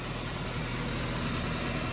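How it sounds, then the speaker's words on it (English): A Chevy Volt engine idles with the hood open at a steady low rumble, constant and even throughout with no other sounds. "I'll just leave it sitting here idling"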